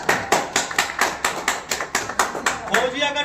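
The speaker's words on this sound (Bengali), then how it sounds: "হাততালি জোরে" An audience claps loudly at the inauguration of the Fauji Academy in Miyapur, Raghunathganj, Murshidabad, a crisp, close run of about a dozen evenly spaced, rhythmic hand claps in unison.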